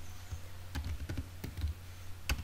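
Keystrokes on a computer keyboard while Python code is typed, a handful of close, irregular clicks at moderate volume with no voices.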